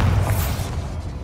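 A Bombarda blast spell bursts in a Harry Potter video game: a dense low boom with a sharp opening crack that settles into a broad rumbling tail, loud and alone.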